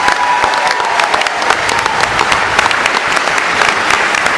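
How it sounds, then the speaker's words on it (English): Audience applause for county sheriffs at a public event, steady dense clapping from a sizable crowd filling the whole stretch at even loudness. "Give them a round of applause."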